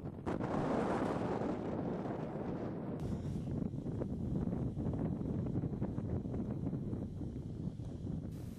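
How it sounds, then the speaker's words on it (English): Strong wind roars across a mountain summit, buffeting the microphone in a loud, continuous rumble with gusty surges and a sudden brief rise in buffeting partway through. "when the wind blows at the speed of 150 kilometers an hour"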